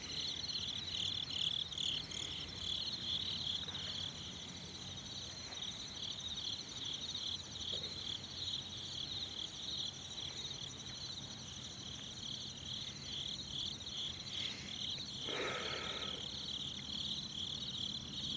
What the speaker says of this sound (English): All I hear is crickets right now.